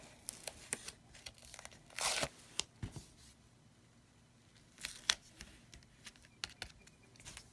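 Tape being torn and peeled for a seashell birthday card: short, sharp ripping and crinkling bursts scattered irregularly, one longer tear near the middle, close and fairly quiet, with no talk.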